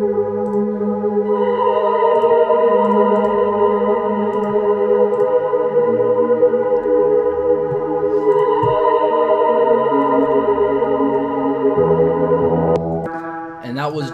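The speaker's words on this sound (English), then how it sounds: "it was a pad, but I added an arp and then added effect to the arp" A synth pad melody in FL Studio with an arpeggiator and added effects, sustained layered tones with a rippling arpeggiated texture, ending in a brief glitchy shift near the close.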